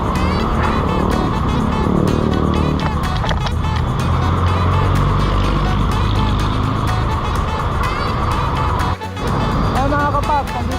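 Road traffic in Lipa City with cars and trucks passing close by and a steady engine rumble throughout, a brief dip near the end.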